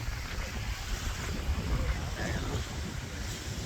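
Wind buffets the microphone on a cool spring day at Brighton beach, producing low rumbling gusts with a faint wash of surf behind, moderately loud and uneven.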